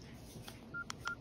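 An old phone keypad sounds a few short dialing tones, sparse beeps separated by brief gaps, faint against quiet background noise.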